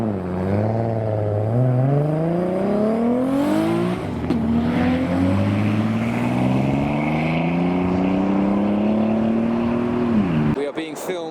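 A loud modified Nissan R32 GT-R leaving a car show revs up through rising gears, its tone climbing steadily before cutting off abruptly as the car passes close.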